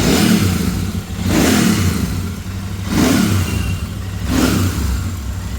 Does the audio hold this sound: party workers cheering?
no